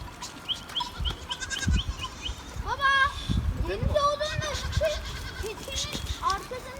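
Several goats and young goat kids bleat in short wavering calls, near and far, while people talk over a noisy outdoor background.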